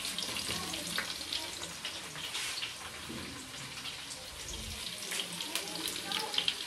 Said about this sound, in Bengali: এই যে কাটা পেঁয়াজটাকে না ভালো করে ভেজে নিতে হবে